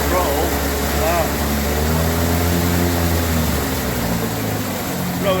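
A jet drive outboard engine revs up as the throttle opens, a loud steady drone with rising pitch sweeps, while someone speaks over it.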